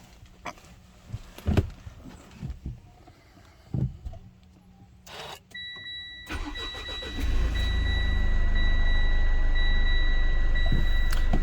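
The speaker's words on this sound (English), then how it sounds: "Now it's time to start the car up to check for leaks." A Mitsubishi Shogun/Pajero/Montero Sport diesel engine cranks after a fuel filter change, preceded by clicks and a warning chime, then catches and settles into a steady, close, loud idle.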